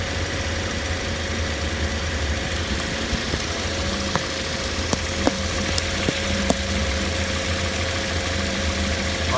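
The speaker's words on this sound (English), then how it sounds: "is a variable displacement compressor that has no clutch" Car engine idling steadily with a clutchless variable displacement AC compressor, a constant low hum and drone broken by a few faint clicks and ticks partway through, close and even with no talk.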